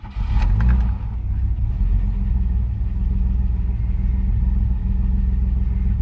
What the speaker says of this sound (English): You see the car starts right away